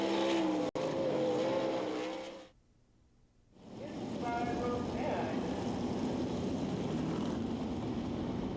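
Sprint race cars at the Knoxville Nationals dirt track, engines droning loudly in a steady roar that fades out briefly and then builds back, with an announcer talking over the engines.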